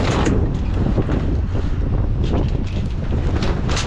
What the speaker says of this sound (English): Wind may be blowing